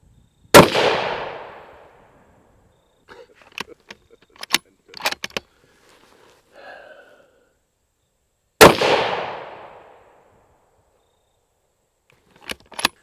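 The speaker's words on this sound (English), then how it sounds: "So we'll shoot this rifle today and you guys will be able to see how it shoots." A Bergara HMR Wilderness heavy-barrel rifle firing Hornady ammunition outdoors, two loud sharp shots several seconds apart with long decaying echoes, with quieter clicks and handling noises between them.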